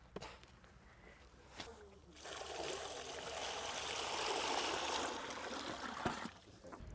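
Water pours and trickles steadily into a pot for a simple garden water feature, rising to a fuller splashing flow in the middle before easing, with a few soft knocks.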